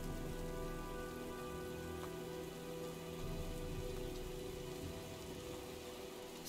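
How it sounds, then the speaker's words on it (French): Steady, dense rain pours down in a thunderstorm in the video game Heavy Rain, an even hiss of drops on surfaces that continues without a break and with no voices. "Je crois qu'un orage se prépare."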